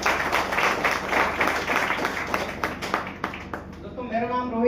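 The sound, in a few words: loud applause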